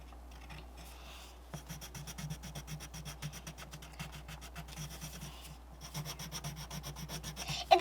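Small bunny-shaped eraser rubbed back and forth on drawing paper at an art table, a close, steady series of rapid scratchy strokes that pause briefly and resume.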